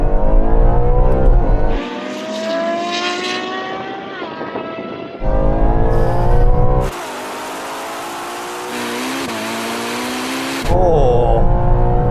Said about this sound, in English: now we're going to have a rolling race from 30 miles an hour to the half mile